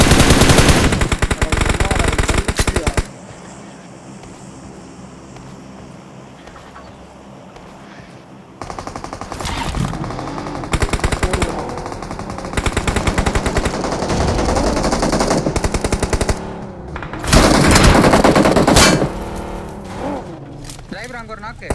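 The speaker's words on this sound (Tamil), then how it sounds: "கன் எடுத்து அடிச்சிடறான் ஜாய்." Rapid machine-gun bursts crackle through a video game firefight, loud and dense at the start, returning in several clustered volleys with quieter gaps between, while a voice talks excitedly over the action.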